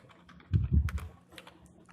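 Quick bursts of keystrokes on a computer keyboard, faint and close, with a cluster of louder clicks in the middle.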